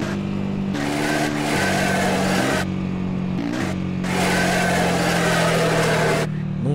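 Honda ADV 150 motorcycle engine in GTA San Andreas, a steady mid-pitched drone that rises and falls with throttle changes, loud and continuous with brief dips between revs.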